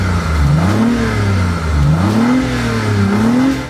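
A BMW i8 Roadster's 1.5-litre turbo inline-three hybrid engine revs repeatedly in Forza Horizon 4, its pitch swinging up and down in three close surges. It plays loud and alone, with no voices.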